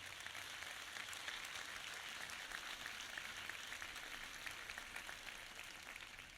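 A crowd applauds steadily throughout at a tourism convention in Spain, a dense even patter of many hands, sounding somewhat distant and quiet.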